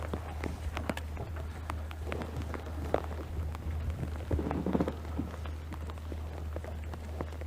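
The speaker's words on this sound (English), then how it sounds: "Sound like I'm in an old house with that rain hitting the tin roof." Scattered pattering of rain on a tin roof with irregular taps and ticks over a constant low electrical hum, fairly quiet and close.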